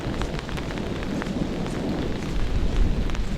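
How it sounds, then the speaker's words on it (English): Heavy rain pours down around a forest cabin shelter during a thunderstorm, a dense, loud hiss with a deep rumble of thunder from a nearby lightning strike swelling toward the end. "That lightning strike was fairly close."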